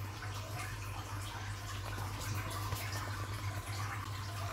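About half a cup of water runs into a blender holding green curry herbs, basil, coriander stems, lemongrass and coconut milk, a steady, faint pouring wash over a low hum.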